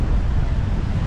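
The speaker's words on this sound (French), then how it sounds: "on a 14 nœuds de vent apparent" Strong wind buffets the microphone aboard a sailboat crossing the Mediterranean in about 14 knots of apparent wind, a loud continuous roar with rushing sea noise underneath.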